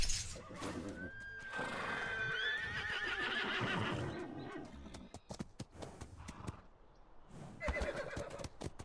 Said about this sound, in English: Riding horses on this island.